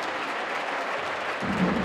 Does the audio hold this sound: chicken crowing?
no